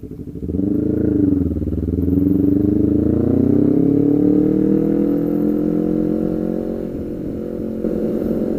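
A Kawasaki Ninja motorcycle riding close behind on an Indonesian road, its engine rising in pitch as it revs and accelerates, loud and near, then holding a steady drone before easing slightly.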